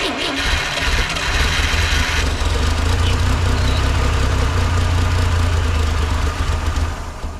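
The engine of a 1958 Lull cherry picker with a guessed carburetor linkage, after sitting for 15 years, cranks and catches into a loud, close, rough running roar that holds briefly, then fades as it dies.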